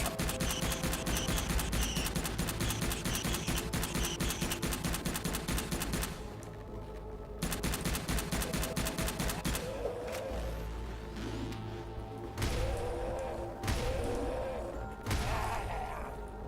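Shotgun and rapid gunfire in the survival game Subterrain bursts out in dense, loud volleys, broken by short pauses and heavy thumping blasts.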